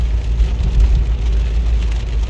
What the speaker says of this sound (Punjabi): ਬਾਰਿਸ਼ ਚੰਗੀ ਲੱਗੀ ਹੈ